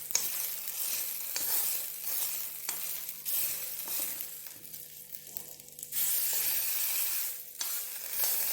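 Potato frying in a pan on a South Indian stove, a continuous close sizzle with periodic stirring strokes and brief surges of crackle, without any talking.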